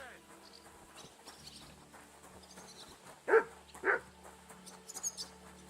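Mutt, a dog in the medieval game Kingdom Come: Deliverance II, gives two short barks in quick succession over a quiet outdoor ambience, with faint chirping in the background.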